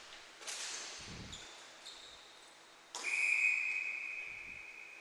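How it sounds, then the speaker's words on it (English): A referee's whistle blows sharp and sustained during a men's division playoff ice hockey game, rising out of rink noise and lasting about two seconds before fading. "I'm not sure what that whistle was for."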